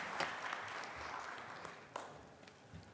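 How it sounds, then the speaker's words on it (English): Panel discussion audience applauding at an innovation week event, a faint, distant patter of clapping with a few sharper claps standing out. "Another round of applause."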